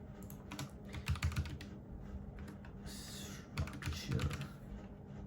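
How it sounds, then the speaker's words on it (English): Rapid clattering keystrokes on a computer keyboard in uneven bursts, close by, with brief pauses between flurries. "Am I typing it right?"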